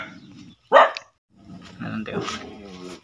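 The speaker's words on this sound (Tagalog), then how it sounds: "daming aso nila dito" Dogs barking near a mountain home, one sharp loud bark standing out amid people talking nearby.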